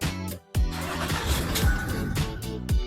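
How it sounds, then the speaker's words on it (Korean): A Land Rover Discovery's engine cranks over and catches after a brief pause, then settles into a loud, rough idle close by with a couple of short revving swells. "시동을 한번 걸어보겠습니다."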